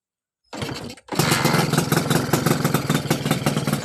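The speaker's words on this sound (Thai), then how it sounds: "ลองฟังเสียงเครื่องดูนะฮะ" A restored Honda Nova RS motorcycle fitted with a clear-tone exhaust starts up after a short silence, a quick catch and stutter, then settles into a loud, close, rhythmically chugging two-stroke idle.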